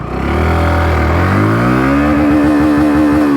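A Hero Glamour X 125 commuter motorcycle pulling away in first gear, its engine note climbing steadily from a low throb to a loud, high rev, close and continuous with no talking.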